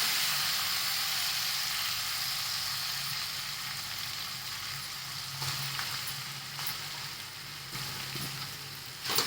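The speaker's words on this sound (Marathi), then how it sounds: "आणि परतून जायचं चांगलं किस असं त्या तुपामध्ये" Grated raw mango sizzles in ghee in a pan, a steady, close frying hiss with faint stirring scrapes toward the end.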